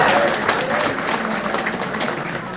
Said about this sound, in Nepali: तपाईँले ताली बजाएर अभिनन्दन गर्नुहोस्